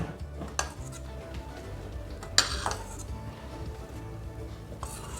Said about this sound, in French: A l'aide d'une cuillère, on va retirer l'écume qui s'est formée au-dessus de notre appareil à crème prise.